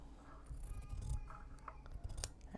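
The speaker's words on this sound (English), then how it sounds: "just trimming down the seam allowances around the exterior of the handle" Scissors snip close by through sewn fabric seam allowances around a bag handle, a few quick crisp cuts in a quiet room.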